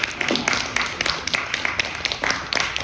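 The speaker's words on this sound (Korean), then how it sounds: "다시 한번 지금 박수 부탁드리겠습니다" An audience at a campus concert on disability awareness claps in a short burst of scattered, moderately close applause, with a voice faintly underneath.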